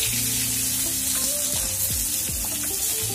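Eggplant pieces, salted and turmeric-dusted, fry in hot oil in a pan, a loud, even sizzle that fills the whole clip with a few clinks of stirring.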